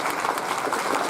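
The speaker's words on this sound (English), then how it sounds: "Let's give her a round of applause." A burst of applause from a stand-up comedy show crowd at a Diwali event, dense and steady clapping filling the whole moment.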